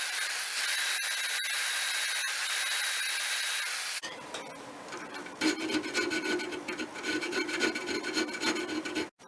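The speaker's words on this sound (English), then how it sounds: "Right, we have the keyway filed. That'll hold our machine screw in place." A hand file rasps steadily across a metal ice skate blade's wooden body, cutting a keyway to seat a 1/4-20 flathead machine screw. The continuous rubbing strokes run close and loud, shifting partway through to a rougher, more uneven scrape.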